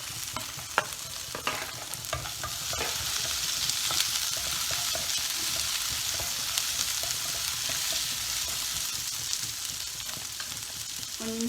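Onion and tomato frying with cinnamon and cloves in a pan for field bean sambar, a loud continuous sizzle with steady stirring scrapes throughout, close and without speech.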